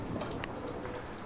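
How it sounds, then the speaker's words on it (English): Steady rain falls loud and close during a Texas thunderstorm in Tornado Alley, a dense continuous wash with a few sharper splashes and no clear thunder clap standing out. "we also having a thunder going on"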